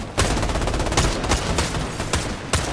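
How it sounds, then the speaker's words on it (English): Video game gunfire crackles in rapid, dense bursts, loud and close, with sharp individual shots standing out through a continuous barrage. "Why is this shit shooting one at a time?"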